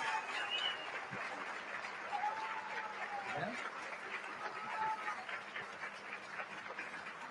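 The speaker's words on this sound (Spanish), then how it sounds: "démosle un fuerte aplauso a todos nuestros hermanos migrantes" Audience applause at a book fair event, honoring migrants: a continuous wash of clapping mixed with crowd voices and scattered laughter or exclamations, moderately loud and sustained throughout.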